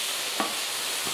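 Sausage sizzles in a pan for cauliflower paella, a faint, steady hiss with one brief clack of a utensil against the pan partway through.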